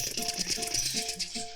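A voice imitates a hummingbird in flight with a rapid, fluttering buzz that pulses steadily for a second or two, close and moderately loud.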